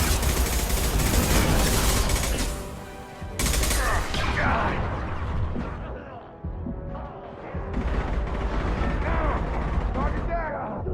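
Gunfire and mechanical weapon clatter in the sci-fi shooter Mass Effect 2, with rapid bursts, ratcheting clicks and booms layered over game hum, dropping out briefly and resuming.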